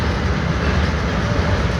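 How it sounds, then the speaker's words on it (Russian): A VL8 electric locomotive hauls a freight train through Kryvyi Rih station, a dense, steady rumble of rolling wagons close by, with no voices. "Был 8-13-92, грузовой поезд."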